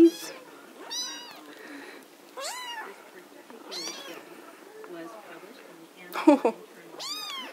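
Three young kittens meow repeatedly in short, rising calls spread across the stretch, fairly close, with one louder burst of overlapping cries near the end.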